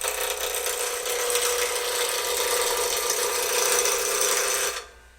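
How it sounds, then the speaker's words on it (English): A steady scraping cut from an Easy Wood Tools turning tool held level against a spinning wood workpiece on a lathe, running loud and continuous for about five seconds before dropping off abruptly. "We're going to come straight in, and we're going to make a cut. We're going to contact the wood."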